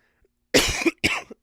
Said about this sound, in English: My cough is not good.